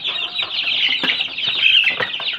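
Peafowl and chicken chicks cheeping in a brooding group, a dense chorus of rapid high peeps with some wing flutter, close and continuous.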